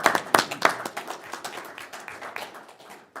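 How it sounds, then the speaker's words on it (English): Audience at a city council meeting in Riverton, Wyoming clapping, a burst of close individual claps that thins and fades over about three seconds. "making us clap a lot."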